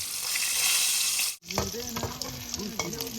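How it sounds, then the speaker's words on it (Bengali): Pieces of bhetki fish fry on a boat on a Sundarbans river at night. A loud, dense sizzle plays for a little over a second, cuts off abruptly, then quieter sizzling continues under people talking. "আর এখানে আমাদের রাতের খাওয়া দাবার যে ভেটকি মাছটা এনেছিলাম সেটা ভাজা চলছে"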